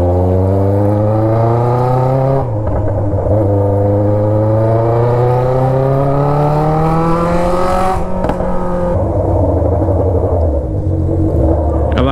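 Yamaha XJ6 motorcycle with a straight-pipe exhaust revs hard up close, a loud, raspy engine roar climbing steadily in pitch, dropping off briefly twice and surging back.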